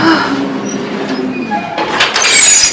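Montreal metro train heard from inside or at the platform: a loud mechanical whine with tonal squeals, then a rising rush and clatter as the car moves, with no talk.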